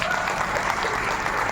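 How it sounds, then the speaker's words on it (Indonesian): Audience applause in an indoor presentation hall, a short, dense burst of many hands clapping at steady strength with no voices on top. "Tepuk tangan untuk Bapak Ibu sekalian."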